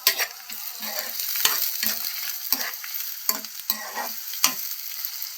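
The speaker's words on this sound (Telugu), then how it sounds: "ముందు ఇంకా ఉల్లిపాయలు వేసాను, ఒకసారి తిప్పుదాము." Onions and green chillies crackle and sizzle in hot oil while a spoon scrapes and stirs them. A steady hiss runs under roughly eight short, sharp stirring knocks at the pan.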